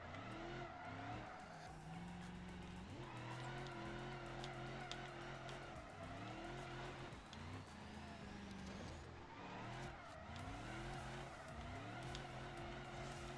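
A car drifting in the BeamNG.drive video game, its engine revving and bouncing through gear changes under sustained tire squeal, loud and continuous throughout with no voices.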